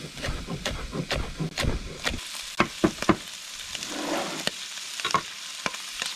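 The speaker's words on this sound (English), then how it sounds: "That bacon, a little sizzle, a little stir. It's just spitting." Bacon sizzling and spitting in a frying pan by a river, a constant loud hiss with sharp crackles and pops, while a utensil scrapes and stirs through it in bursts early on.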